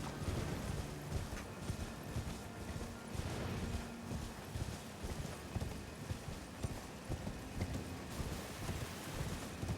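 Horse hooves clip-clopping in a video game, a steady rhythmic patter of hoofbeats over a dense background like rain, moderately loud and continuous, with no talking.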